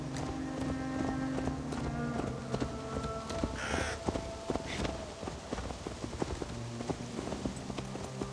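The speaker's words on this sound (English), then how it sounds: "What was that? Birds, Eivor!" Crows caw repeatedly in Assassin's Creed Valhalla, harsh calls scattered over the clip-clop of horses walking and a low outdoor background.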